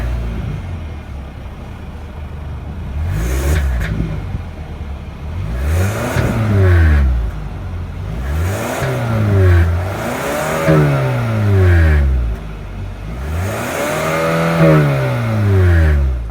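A 2024 Hyundai Sonata SEL's naturally aspirated 2.5-liter four-cylinder revs repeatedly nearby, each blip of the throttle rising sharply and then winding back down, roughly five rev cycles in a row with no talk.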